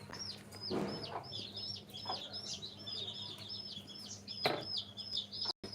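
Rapid high chick peeps repeat continuously, with a few louder hen clucks breaking in, close and lively over a steady background hum.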